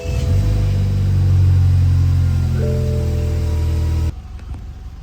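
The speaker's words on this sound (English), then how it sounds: "you guys will definitely get to hear that startup today" The engine of a wrecked BMW 320i M Performance starts on a booster box and runs loud and close in a rough, rumbling idle with a rise in revs, then cuts off abruptly before the end.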